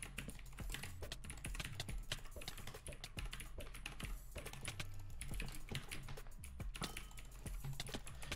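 Rapid, continuous typing and key clicking on a new computer keyboard while playing Minecraft UHC, dense and close with steady keystrokes throughout and no talk.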